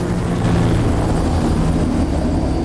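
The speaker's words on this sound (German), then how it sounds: "Ich höre Flugzeuge, aber ich sehe sie nicht." Aircraft in the F.E.A.R. shooter game drone as a loud, steady, low engine rumble that fills the scene, with no speech.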